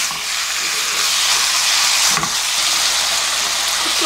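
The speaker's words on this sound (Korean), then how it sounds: "이렇게 해서 고기를 거의 다 익을 정도로 볶아줍니다" Pork splashed with soju stir-fries in a hot pan, giving a loud, steady sizzle and hiss with a brief scrape of stirring midway.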